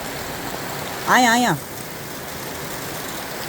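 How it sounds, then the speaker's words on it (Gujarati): Rainwater flows after heavy rain in Gujarat, a steady broad rushing hiss that fills the scene, and a voice speaks briefly over it. "અહીંયા પાણી આવે છે, પાણી બહુ આવે છે અહીંયા"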